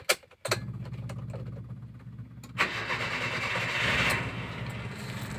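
A 2000 Mitsubishi Kuda engine cranks and catches after a brief pause, then settles into a steady close mid-pitched idle with a slight rise in revs, with no voices.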